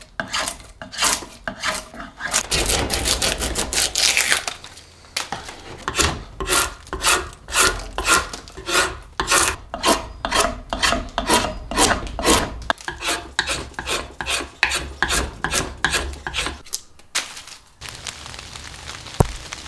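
A wooden bow stave for a Paiute bow is shaped on a workbench, with belly mass removed in quick repeated rasping strokes, a loud rhythmic scraping that pauses briefly and then resumes, with no talk.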